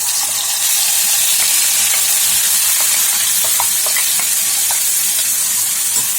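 Ground onion paste sizzling loudly in hot oil, a dense continuous close frying hiss with faint stirring clicks underneath.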